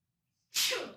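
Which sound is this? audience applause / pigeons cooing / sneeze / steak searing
sneeze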